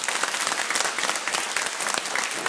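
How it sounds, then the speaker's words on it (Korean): A church congregation in Seoul claps together after a sermon, a loud, dense and continuous burst of applause filling the space without any voices. "하나님께 영광의 박수 올리겠습니다."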